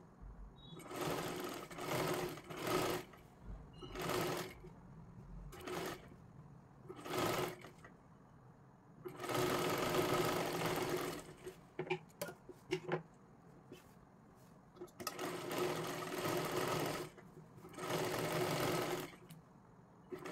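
Sewing machine stitching a three-piece princess blouse in repeated bursts of running, several longer runs separated by short pauses and quieter handling sounds, moderately close.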